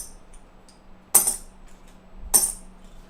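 Two sharp metallic clinks of a 1963 Franklin silver half dollar dropping onto a hard surface, about a second apart, with a brief ringing shimmer after each.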